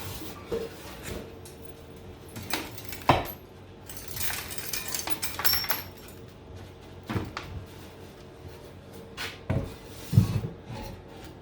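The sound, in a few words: scrap cast aluminum dumped into a bucket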